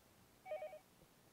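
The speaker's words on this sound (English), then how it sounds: "I like how it said 3 rings and then all of a sudden it's still ringing" A single short telephone ring in the video game Higurashi, faint and brief, standing alone against a quiet background.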